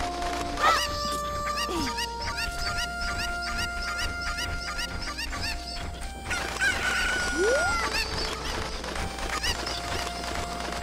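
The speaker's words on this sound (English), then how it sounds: "put these chickens in this pan over here." Chickens clucking and a rooster crowing in the video game The Legend of Zelda: Ocarina of Time, repeated bright calls and clucks over a steady game background with music-like tones.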